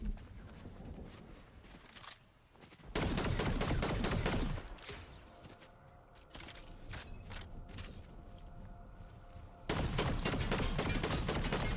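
Gunfire in the video game Fortnite rings out in sharp bursts of rapid shots between quieter stretches of clanking mechanical game sounds, fairly close and loud at moments.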